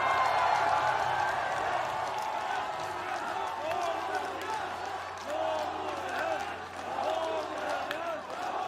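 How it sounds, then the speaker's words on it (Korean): A large crowd at a homecoming rally for President Roh Moo-hyun cheers and applauds, a sustained wash of clapping with shouting voices that rises and falls over several seconds. "여러분 다시 한번 뜨거운 함성과 박수 부탁드리겠습니다"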